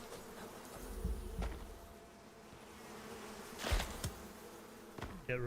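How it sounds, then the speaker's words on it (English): Bees hum in the survival video game Icarus, a faint, steady buzzing drone with a few soft passing thumps and no talk. "I can hear the silent hum of bees."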